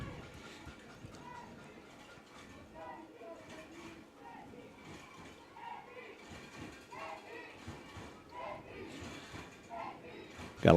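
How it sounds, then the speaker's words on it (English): Crowd at a high school softball regional semifinal chanting in the stands, a faint rhythmic mix of young voices rising and falling at a distance, ending with a sudden loud burst. "Got a lot of chanting going on here in the crowd"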